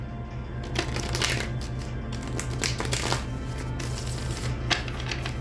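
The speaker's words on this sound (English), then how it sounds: "Get you some good shuffles in" Tarot cards being shuffled repeatedly, a continuous riffling and flapping close up, steady and unbroken for several seconds.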